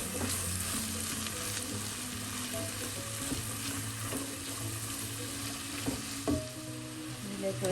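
Chopped onion frying in hot oil while being stirred: a dense, continuous sizzle with occasional scraping and knocking of the spoon against the pan.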